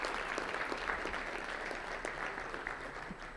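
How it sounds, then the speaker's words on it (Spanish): Steady applause from an audience honoring speakers at a roundtable panel session, a dense, continuous patter of many hands heard at moderate distance throughout. "Un aplauso por favor para todos."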